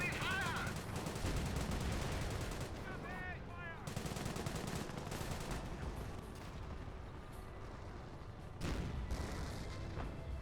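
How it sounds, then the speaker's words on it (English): Whirlwind anti-aircraft vehicles in the Company of Heroes strategy game fire continuous loud rapid bursts of gunfire and booming shots throughout, with battle noise filling the scene. "Whirlwinds go around firing away"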